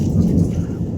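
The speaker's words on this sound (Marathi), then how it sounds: "गरडतंय तिकडे." A brief low rumble of thunder during unseasonal rain, loud and deep, with rain noise underneath.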